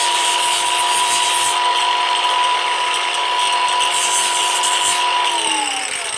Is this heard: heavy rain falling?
no